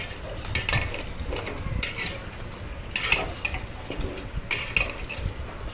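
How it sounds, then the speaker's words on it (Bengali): Beef curry being stirred in a pot with the lid lifted, a utensil scraping and clinking against the metal in repeated strokes, close and fairly loud, with a few sharper knocks and no talking. "এখন ঢাকনা তুলে আমি আবারও নেড়ে ছেড়ে দিচ্ছি।"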